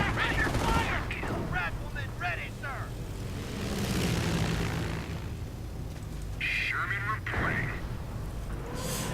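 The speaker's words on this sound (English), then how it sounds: "And looks like another bombing run sets in." Aircraft drone with bursts of gunfire during a bombing run in a World War II real-time strategy game featuring a Panzer Lehr division, heard under a commentator's ongoing talk with a sustained rumbling engine bed.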